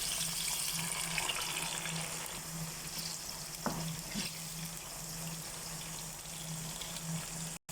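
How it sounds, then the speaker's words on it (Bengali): Potatoes and carrots fry in a pan while biryani is being prepared, giving a steady, close sizzle with a faint hum underneath and a couple of brief clinks, running for about eight seconds without talk. "এখন দিয়ে দিচ্ছি আলু, গাজর ফ্রাই"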